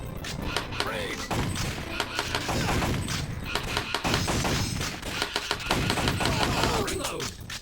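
Rapid bursts of electronic gunfire and thumping impacts from a Retro Shooter light-gun arcade game, loud and repeated in clusters, with game voice callouts mixed in among the shots.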